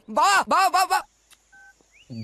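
A telephone keypad sounds one short, faint dialing tone in a comedy film scene, after someone speaks briefly and then falls quiet.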